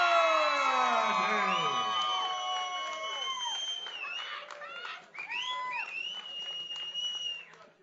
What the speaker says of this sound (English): Good energy for this main event from the crowd, Jeremy.